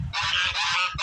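A goose honks loudly and close by in a short burst of harsh, nasal calls, with no other sound around it.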